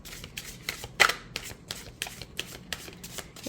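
Tarot cards are riffled and shuffled in quick bursts, about a dozen crisp papery flutters in a fairly even rhythm, close up with no talking.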